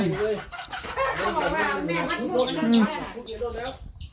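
Hens and chicks clucking and cheeping in a vegetable garden, a busy overlapping chorus of low clucks and high peeps close by, with a person talking over them.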